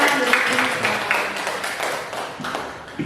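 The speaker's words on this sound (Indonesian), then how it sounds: "Tepuk tangan." Audience applause at a positive-discipline training session, a steady patter of many hands clapping for about three seconds at moderate loudness, with no talk over it.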